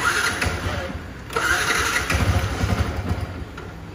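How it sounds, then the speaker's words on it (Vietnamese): A Yamaha R15 V1 motorcycle engine turns over and catches, then idles with a rough, steady low rumble that stays close and fairly loud. "cho anh em nghe tiếng máy nha"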